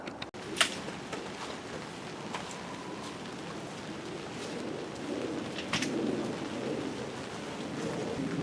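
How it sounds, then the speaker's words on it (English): Rain starts to fall outdoors by a garden greenhouse, a steady soft hiss throughout, with a few faint bird chirps and light taps. "It's starting to rain"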